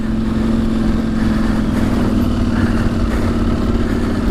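A KTM 790 Adventure motorcycle engine running steadily on the Claerwen Reservoir off-road trail, a loud, continuous mid-pitched drone with slight rises and falls and no voices.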